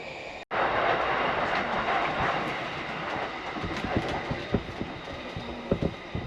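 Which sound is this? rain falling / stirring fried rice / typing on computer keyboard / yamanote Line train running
yamanote Line train running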